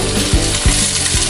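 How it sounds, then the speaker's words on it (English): Vegetables frying in a pan and being stirred: a loud, steady sizzle with a few scraping strokes of the utensil across the pan, close up. "just stirring up our veggies"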